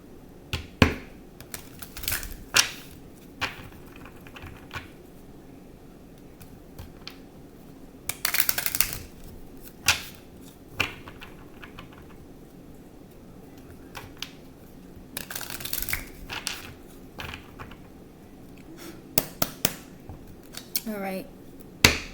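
Tarot cards are shuffled in several quick riffling bursts with brief pauses, separated by scattered small taps and handling clicks.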